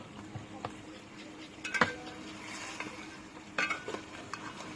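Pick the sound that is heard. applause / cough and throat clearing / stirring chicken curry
stirring chicken curry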